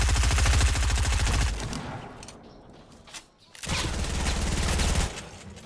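Fortnite gunfire crackles in long, rapid automatic bursts, fading briefly mid-way before another loud, sustained volley erupts.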